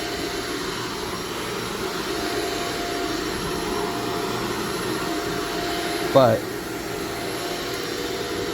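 A vacuum cleaner runs steadily on carpet, a loud continuous whine and roar throughout, with a brief spoken word breaking in near the end.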